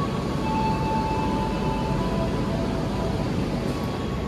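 Steady rumbling roar of an executive-class passenger train passing close by at a station on a Jakarta–Madiun line, a continuous broad noise with faint high tonal whines throughout.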